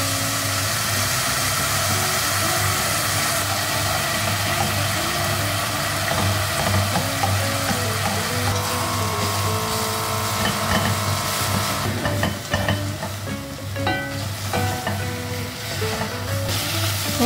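Eggs cook in a silken tofu soup in a pan, giving a steady, loud sizzling and bubbling hiss with occasional stirring clatter, close and without talk.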